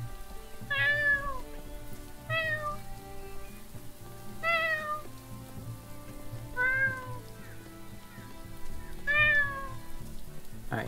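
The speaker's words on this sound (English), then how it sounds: "You got your meows." A cat meows five times at roughly even intervals, clear and fairly close, over a steady low background hum.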